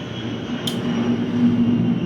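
A plane flies near a military base, heard as a steady low droning rumble that swells slightly and holds loud through the whole stretch, with no talking over it.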